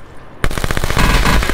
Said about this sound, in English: Yeah, you with the M16? You like that gun?